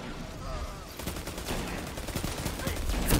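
Rapid bursts of auto rifle fire in a shooter video game, sustained and dense, building in loudness toward the end.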